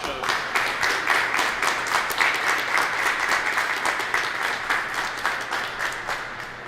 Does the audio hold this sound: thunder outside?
no